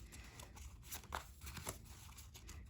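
Stiff tarot cards are shuffled with soft riffling and flapping bursts, quiet and close, with no talking.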